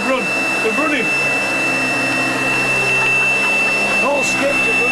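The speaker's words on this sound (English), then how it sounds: "that's how good this vacuum is" A vacuum cleaner runs in a hotel room at night, a loud, constant whining roar with shifting tones as it moves, while a voice talks over it.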